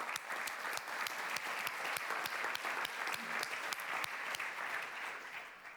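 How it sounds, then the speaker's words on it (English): Sustained audience applause at the closing session of a conference, many hands clapping in a dense, even patter from a sizeable room that fades slightly toward the end. "Round of applause, please, Christina."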